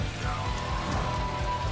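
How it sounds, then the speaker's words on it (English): Rain in a PlayStation 5 video game, a steady, dense patter of drops on surfaces, continuous and fairly loud with a low rumbling bed underneath. "That's why we have all this rain."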